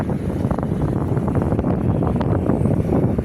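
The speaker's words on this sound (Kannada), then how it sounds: "ಈ ಶುಭ ಸಂಜೆಯಲ್ಲಿ ತಂಪಾದ ಗಾಳಿ, ತಂಗಾಳಿ ಬೀಸುತ್ತಿದೆ" Cool evening breeze blowing steadily across a lakeside with a walking path and garden, a continuous broad rush of wind buffeting the microphone throughout, with no voices.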